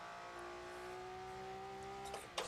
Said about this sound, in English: It's a pretty good sounding car.